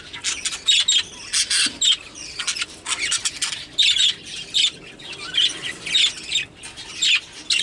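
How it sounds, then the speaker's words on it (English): Many birds squawking and screeching together in a breeding shed, a steady, dense chorus, loud and close, with overlapping harsh calls throughout. "you can hear the birds down below in the lower stack."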